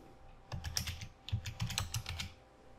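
Quick bursts of typing on a computer keyboard, close and clear, with rapid clusters of key clicks separated by a short pause, alone without any talk.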